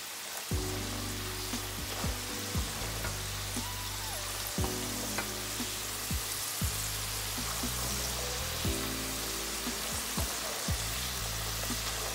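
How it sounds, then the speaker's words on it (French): Chips bubble and crackle in hot oil, a constant close sizzle with occasional sharp pops and clinks over several seconds. "you have to let the oil heat before you start frying"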